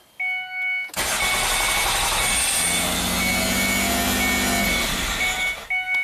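A Ford Escape engine cranks and catches after a short electronic chime, then settles into a loud, steady idle for several seconds before chimes return and the sound cuts off.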